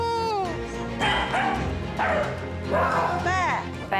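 A dog barks and yips repeatedly in short rough bursts with whimpering whines in between, close and loud, while people talk over it.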